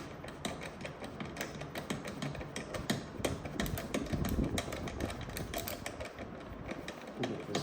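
A 10 mm bolt being worked loose from a Tesla's rear bumper, a rapid, continuous clatter of ratcheting clicks and metallic rattling, close and fairly loud, with no talk over it.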